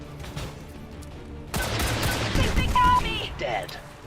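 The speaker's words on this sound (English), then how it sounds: "Here comes micro missiles." Micro missiles launch in a modded XCOM 2 battle as a sudden burst of rapid explosive volleys, loud and dense, continuing for a couple of seconds while someone talks over the gameplay.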